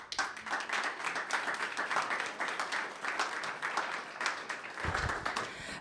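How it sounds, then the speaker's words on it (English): Applause from a seminar audience, many hands clapping in a steady, dense patter that carries through the whole stretch without a break, with faint murmuring voices underneath and a small swell in the final second. "A big applause"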